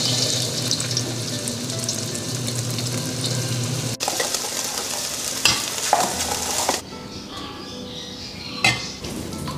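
Egg mixed with Chinese toon leaves frying in a pan, with a steady close sizzle and scraping stir that eases off and thins toward the end, no voices.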